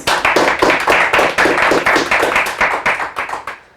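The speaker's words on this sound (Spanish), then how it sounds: "démosle un aplauso más a la vez, por favor" Loud close applause from an academic audience after a mathematics talk, a dense pulsing burst of clapping that holds strong before thinning and fading out at the close.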